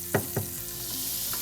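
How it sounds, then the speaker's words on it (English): Half a stick of butter sizzles and melts in a very hot pan, with two sharp crackling bursts at the start settling into a steady frying hiss, no voices. "allow it to sizzle and melt"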